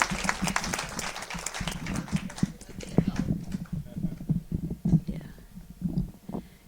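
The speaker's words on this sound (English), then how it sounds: "Ladies and gentlemen, let's give a round of applause to Bien." Applause from the audience at a poetry and performance night: scattered claps that thin out over a few seconds, under cheering voices and chatter.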